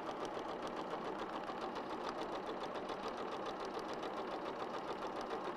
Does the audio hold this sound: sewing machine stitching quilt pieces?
yes